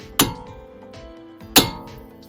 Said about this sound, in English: Chisel and hammer.